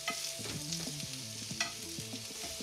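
Small mushrooms fry in oil and butter in a pan, a close, steady sizzle with a few stirring scrapes and no speech.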